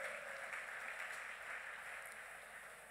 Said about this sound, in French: Acclame encore pour le Christ.